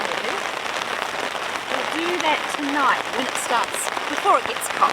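Heavy rain drums steadily on a tarp at a snowy solo campsite, a dense close hiss throughout, while a person talks briefly over it and a few short squeaky sounds rise above the patter.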